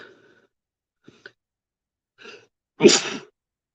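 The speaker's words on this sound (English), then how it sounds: "I got a sneeze coming on." A single sharp sneeze, loud and close, preceded by a few faint breaths and a quick inhale.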